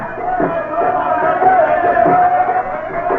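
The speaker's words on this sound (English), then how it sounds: "The windows lining the route are filled with women and children cheering the young bridegroom." Women and children cheer a young bridegroom's procession through the streets of an Egyptian village in the 1970s, a steady crowd of ululating, whooping voices rising and falling close by, continuous throughout.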